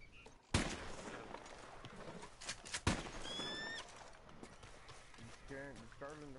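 Horse in a video game, with a sharp loud impact early, another burst near three seconds, whinny-like tonal sweeps and hoof clatter scattered over a busy mixed background.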